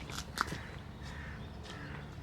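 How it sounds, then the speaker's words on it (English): A few faint, distant caws from crows over quiet outdoor countryside ambience in Hampshire, with soft rustling footsteps nearby. "over there, crows, some other kind of birds"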